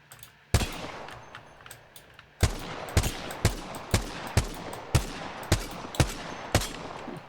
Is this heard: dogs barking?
no